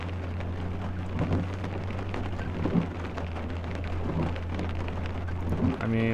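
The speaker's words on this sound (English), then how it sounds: "Driving in the rain simulator." Steady rain pattering on a car in the video game Chasing Static, dense and continuous over a low engine hum, with scattered louder drops and a short tonal chime at the end.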